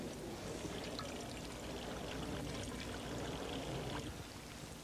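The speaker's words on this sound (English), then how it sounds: "What we do now is pour the water through this and collect at the other end." Water poured through an improvised sock filter packed with charcoal, sand and moss outdoors, a soft steady trickling and splashing stream that runs continuously at low level with no talking.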